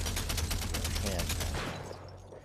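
Rapid LMG fire in the video game After the Fall, a dense stream of loud, evenly spaced shots that thins and fades out over the last second, with a low steady hum underneath.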